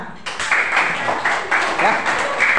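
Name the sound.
classroom applause for a group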